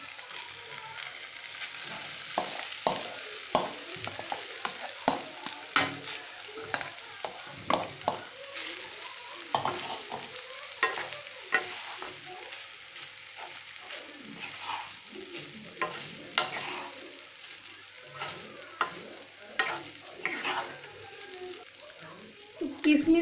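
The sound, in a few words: stir-frying rice with chicken and vegetables in a pan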